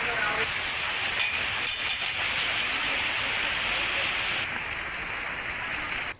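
Heavy monsoon rain pours steadily in Silvassa, Gujarat region, a dense, continuous broadband hiss that stays loud throughout, with the upper sheen dropping slightly near the end.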